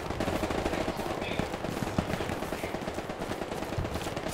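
Near-continuous automatic gunfire from the World War II shooter Hell Let Loose, a steady crackling stream of shots at moderate distance with no clear gaps, faint voices under it.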